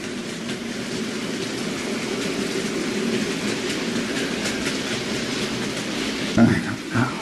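Hornby R2249 8F model steam locomotive running on OO gauge track, a steady close rolling rumble with faint clicking of wheels over rail joints and a brief louder clatter near the end.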